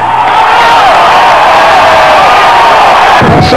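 Penn State fans celebrate a 1987 Fiesta Bowl victory with loud, close, continuous crowd cheering and whooping, mixed with shouting voices.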